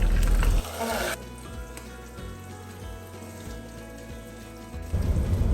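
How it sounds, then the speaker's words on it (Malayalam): Onions sizzle in sunflower oil in a pan, close by. A louder burst of frying noise opens the clip, settles into a quieter steady crackle, then swells loud again at the end. "അപ്പോൾ അതിന് വേണ്ടിയിട്ട് സൺഫ്ലവർ ഓയിൽ എടുത്തിട്ടുണ്ട്. അതിലേക്ക് സവാള ഇട്ട് കൊടുത്തിട്ടുണ്ട് കേട്ടോ."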